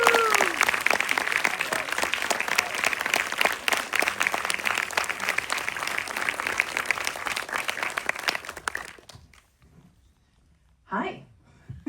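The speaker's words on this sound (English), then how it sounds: "give a warm round of applause for Sharon Horgan and Grace Van Patten" Audience applause at a Q&A for an Amanda Knox story, dense sustained clapping from a crowd for about nine seconds, then fading out into near silence before a voice briefly speaks.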